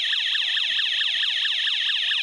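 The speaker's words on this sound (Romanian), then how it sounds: "Avem aici în bord sirene." A police bicycle's dashboard siren blares a fast, continuous warbling yelp, loud and close, rising and falling in quick regular sweeps with no talking.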